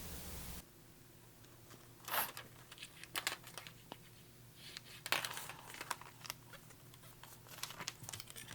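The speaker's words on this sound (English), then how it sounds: "I'm going to use my folder here to crease that just a little more." Paper bag being creased with a bone folder, a few short crisp rubbing and crinkling strokes at close range against a low steady hum, with no talking.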